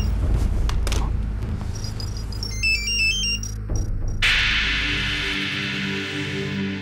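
A phone rings with a bright electronic ringtone melody amid background hum and clatter, a call from an untraceable number in a children's TV episode.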